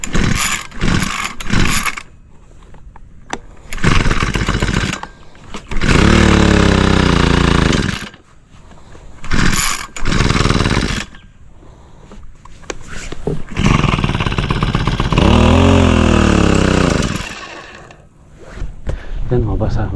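An engine-powered sprayer roars and drones loudly in long bursts between clattering, ratcheting bursts and speech, close by, starting and stopping repeatedly.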